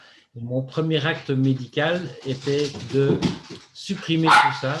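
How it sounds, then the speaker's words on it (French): A dog barks in short bursts close by, interleaved with someone speaking French over it. "Ça c'est mon chien."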